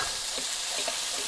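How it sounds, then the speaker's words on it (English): Garlic and ginger paste frying hard in a hot curry pan, a dense, bright crackling hiss with small popping spatters, loud and close, continuous and alone. "That garlic frying away."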